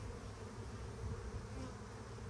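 Honeybees buzz in a steady, dense drone around an opened hive while a beekeeper splits colonies and sets up a queen-rearing starter colony, the hum continuous and fairly close.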